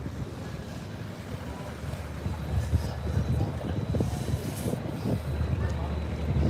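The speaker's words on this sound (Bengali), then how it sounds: "আমাদের লঞ্চের কিন্তু স্পিডটা অনেক বাড়াই দিছে" A brand-new passenger launch on a river near Barisal runs at speed. A low, steady engine rumble mixes with rushing water and gusty wind buffeting the microphone, building louder, while a voice talks faintly underneath.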